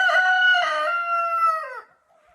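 Adler Silver hens in a henhouse give a loud, drawn-out harmonic call lasting nearly two seconds, close by and alone, fading into quiet.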